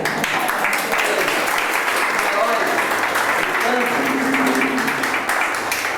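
A church congregation at a Tuesday Bible study gives a round of applause, steady dense clapping filling the room with voices mixed in beneath it.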